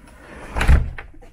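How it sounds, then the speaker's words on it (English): A newly built exterior-grade door, fitted with deadbolt lock hardware, swings shut with one solid, close thud that fades away quickly. "One exterior grade door that closes."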